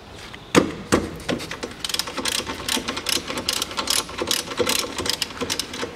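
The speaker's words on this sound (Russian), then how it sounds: "И выкручиваем там шестигранником на 10 болты, крепежные" Bolts on the upper front strut mount of a 2001 Daewoo Nexia 1.5 being unscrewed with a 10 mm hex key, giving close, irregular metallic clicks and ratcheting scrapes with sharp knocks, heard alone.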